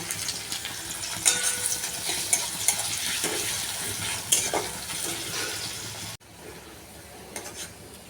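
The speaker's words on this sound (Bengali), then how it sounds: "পেঁয়াজটা ভাজা ভাজা হবে পেঁয়াজটা ঠিক বেরেস্তা হবে না একটু লাল ভাজা হবে" Onions fry in oil until reddish for a yogurt-marinated chicken dish, giving a steady close sizzle with occasional stirring clinks and scrapes that becomes quieter near the end.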